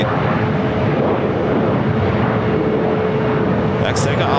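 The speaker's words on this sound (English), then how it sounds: "Mexico Flight 645 heading back to Mexico City in the 737 MAX 8." A Boeing 737 MAX 8 airliner departs LAX with a loud, steady broadband engine roar that holds for several seconds, and a commentator's voice comes and goes over it.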